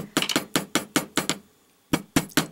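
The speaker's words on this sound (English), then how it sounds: "Bring back the jeweler's block and hammer those curls a little bit." Metal wire curls are hammered on a jeweler's block in quick, sharp, close taps, in clusters with a brief pause partway through, with no talking.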